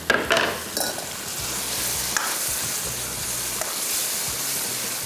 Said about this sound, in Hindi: ये सिर्फ समझ लें कि लिटरली 1 मिनट आपने फ्राई करना है